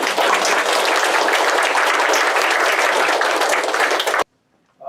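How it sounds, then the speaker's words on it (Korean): A lecture audience applauds loudly and continuously to welcome a speaker, dense clapping for about four seconds before cutting off abruptly into near silence. "큰 박수로 환영해 주시기 바랍니다"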